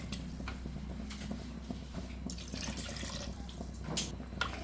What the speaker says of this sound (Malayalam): ഞാനിപ്പോൾ ഒരു രണ്ട് കപ്പോളം വെള്ളം ഒഴിച്ച് കൊടുത്തിട്ടുണ്ട്